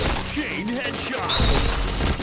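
Bursts of gunfire in the online shooter PointBlank, rapid overlapping shots close up, mixed with game sounds and a player talking over them.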